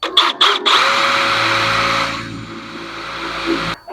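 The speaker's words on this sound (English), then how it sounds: "once you've got your holes drilled in the sheet metal that we're giving you and then the body metal itself" A power drill bores holes in sheet metal for a truck bed system, a few short bursts and then a sustained high whine, close and loud, cutting off abruptly.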